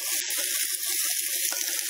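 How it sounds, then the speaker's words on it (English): Vegetables including courgettes are stir-fried in a hot pan, giving a loud, close, continuous sizzle with faint stirring clicks and no voices. "So just stir-frying all the vegetables"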